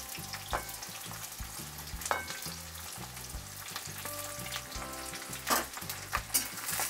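Three large sliced onions fry in hot oil with three bay leaves for a spicy Maharashtrian chicken dish, giving a continuous close sizzle broken by the repeated scrapes and knocks of stirring.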